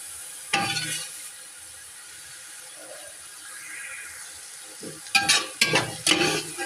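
Egg frying in a pan, cooked separately for egg fried rice: a low steady sizzle with a few sharp stirring scrapes at the start, then a cluster of louder clattering strokes near the end.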